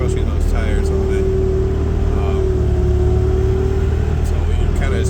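A Merlo telehandler's engine running steadily indoors during snow pushing, a loud, constant low drone with a steady tone, while someone talks over it.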